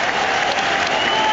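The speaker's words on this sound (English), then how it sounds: "everyone on their feet applauding" A stadium crowd at Anfield applauding steadily as Liverpool give Crystal Palace a guard of honour at a 2024/25 Premier League match, with dense, sustained clapping filling the whole moment.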